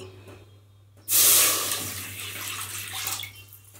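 A sudden rush of water pouring into a metal pressure cooker, loud at first then settling into a steady splashing stream for a couple of seconds.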